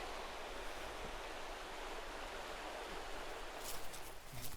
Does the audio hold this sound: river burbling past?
yes